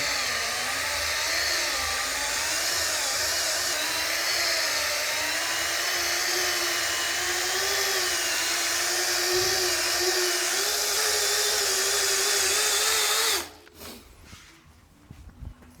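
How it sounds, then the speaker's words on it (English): A rotary polisher runs with a wet polishing pad on custom paintwork, a loud steady whine whose pitch wavers slightly as pressure changes, then cuts off abruptly near the end and leaves quiet handling noise. "we come in with a wet polishing pad, spread the polish out a bit, and then start actually polishing"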